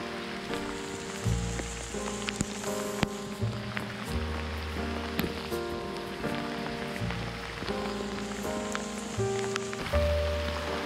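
Steady rain falling outdoors on a cool day near a swollen creek, a dense continuous patter at low level with scattered drops and faint tonal background sounds, no talk.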